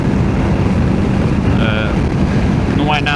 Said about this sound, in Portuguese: mas eu sinto o vento